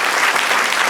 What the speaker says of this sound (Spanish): Denle otro aplauso al Señor, celebre.